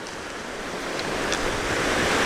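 Lake Superior waves break and wash along the shore in a steady, close, broadband roar that swells slightly louder toward the end, mixed with some wind noise.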